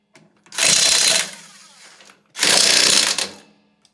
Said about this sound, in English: Jack her up, Ian.